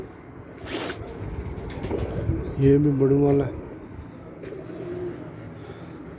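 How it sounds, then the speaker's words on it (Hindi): Caged pigeons in a rooftop loft coo in a brief, resonant burst midway, with softer cooing around it, while someone talks nearby. "ये भी उड़ाने वाले कबूतर हैं"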